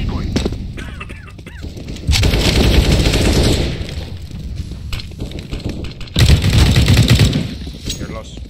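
Rapid bursts of fake gunfire from a decoy grenade in CS:GO crackle loudly in two surges, one around the middle and another near the end, between quieter game ambience with occasional speech.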